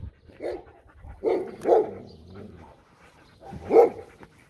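A female dog in off-leash obedience training gives a few short, muffled barks and whimpers in separate bursts, close by, with quiet gaps between them.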